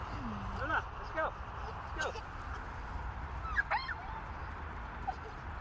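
A tired dog whimpers in a park in several short, high whines, with other voices speaking and a steady outdoor background underneath.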